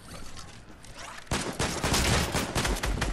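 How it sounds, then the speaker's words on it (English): Gunfire in the video game Fortnite: a muffled, low-level stretch gives way to a sudden loud burst of rapid repeated shots that continues in a dense volley to the end. "I don't see the guy who's shooting me"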